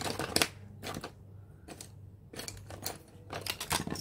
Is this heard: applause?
no